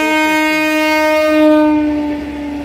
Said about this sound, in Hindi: अभी इलेक्ट्रिक ट्रेन का लोको टेस्टिंग हुआ गोठान से भेस्तान तक